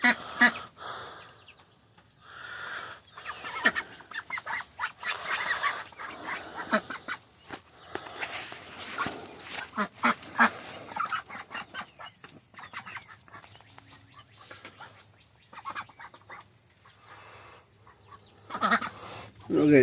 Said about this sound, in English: There's turkey. There's duckies.